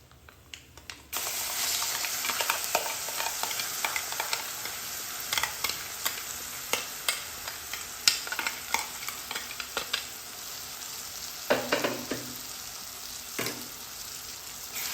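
Green chilli chutney goes into a hot tempering with asafoetida and turmeric, raising a steady loud sizzle. Repeated clinks and scrapes of a stirring spoon sound against the pan throughout.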